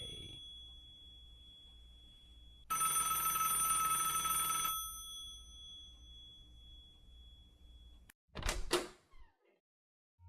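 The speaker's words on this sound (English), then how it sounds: "Don't answer. It isn't your phone." A telephone rings in the video game Hi I'm Bob with one bright electronic burst of about two seconds over a quiet ambient hum, followed by a short louder clatter near the end.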